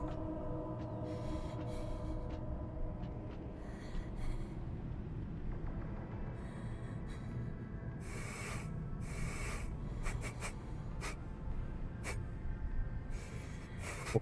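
An animatronic in Five Nights at Freddy's: Security Breach sniffs repeatedly, with several breathy, rasping snorts in short bursts over a steady low game ambience, and no talking.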